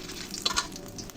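Bay leaves sizzle in hot mustard oil in a kadai, a close, steady frying crackle with a couple of brief sharper pops and stirring clinks.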